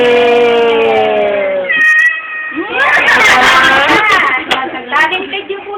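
A cat meows loudly and close by in a long, drawn-out call, followed by more wavering, warbling meows with a few sharp noises in between.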